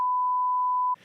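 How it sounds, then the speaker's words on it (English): Censor bleep on a podcast, one steady, pure electronic tone held for almost a second and then cut off abruptly, loud and alone, followed by a brief murmur. "We got to bleep that, right?"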